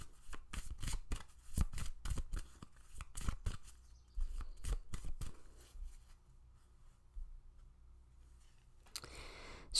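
Tarot cards are shuffled in a quick series of crisp riffling flutters and slaps, followed by a quiet stretch and a faint card being drawn and laid down.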